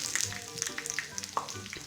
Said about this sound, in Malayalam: ഇനി കടുക് പൊട്ടി വരുമ്പോൾ അതിലേക്ക് ചുമന്ന മുളകും വേപ്പില ഇട്ട് കൊടുക്കുക.